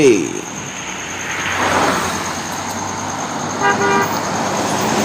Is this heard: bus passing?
yes